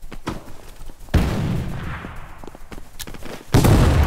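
Grenade blasts and rifle fire in a Project Reality-style military shooter: loud booming bursts roll into a sustained rumbling wash, sharp shots scattered through it, and another heavy blast hits near the end.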